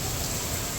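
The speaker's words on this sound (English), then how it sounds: "I'm just waiting for the rain to ease up a little" Steady heavy rain pours during a severe thunderstorm at a zoo, a dense continuous hiss with no thunder or voices in this brief moment.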